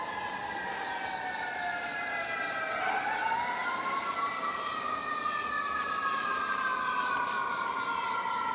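Wailing emergency vehicle sirens sweep up and down across a city, several overlapping and fairly distant, rising and falling steadily over a constant street hum with no talk.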